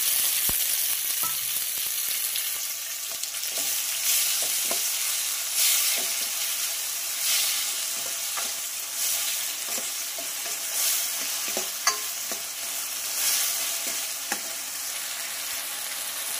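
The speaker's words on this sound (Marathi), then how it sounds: "आणि हे चांगलं फ्राय करून घेणार आहोत आपण। यामध्ये मी 2 टोमॅटो घालणार आहे, बारीक चॉप केलेले।" Finely chopped tomatoes fry in a pan for sambar, with a constant close sizzle and occasional soft clicks and scrapes of stirring throughout.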